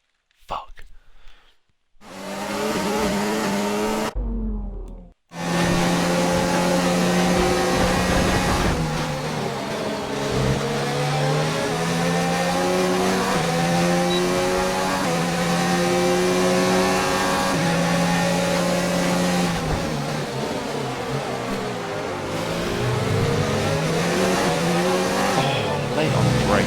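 Formula 1 cars in the racing game F1 2019, engines screaming at high pitch and rising and falling through gear changes during an overtake, loud and continuous, with a voice talking over them.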